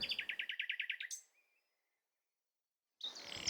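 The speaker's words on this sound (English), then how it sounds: "we are only able to enjoy the nightingale's song for a few short weeks in spring and early summer" A nightingale sings a rapid run of about a dozen bright, evenly spaced repeated notes that ends in a higher flourish. Silence follows, and then a fresh phrase begins, clear and close against a quiet background.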